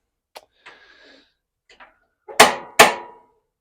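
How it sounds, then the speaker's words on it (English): An old spark ignition on an RV propane range snaps out a few light ticks followed by two sharp, loud clicks close together, each with a short ringing decay, in an otherwise quiet space. "this is an old school spark ignition system, so you have to rapidly move it through the sparking"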